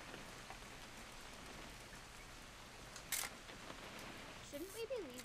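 Steady rain falls in What Remains of Edith Finch, an even hiss with no gaps, then a sharp mechanical click and a brief whirring sweep near the end.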